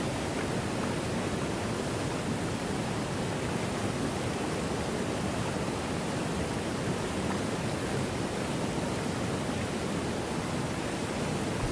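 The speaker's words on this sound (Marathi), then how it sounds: "या ठिकाणी सुंदर असा धबधबा आहे" Saitavde waterfall on the Shivganga river, where rocky hills narrow the riverbed, roaring as a dense, unbroken rush of water, loud and steady throughout with no voices.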